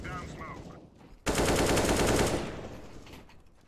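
Automatic gunfire in the Counter-Strike video game: a loud, sudden burst of rapid shots that fades out after a couple of seconds, following faint voices earlier.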